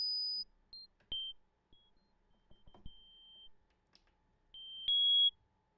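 Synth bass note pitched up seven octaves so it plays as thin, piercing high beeps, a few short isolated tones and a longer final one separated by near silence, with faint clicks between.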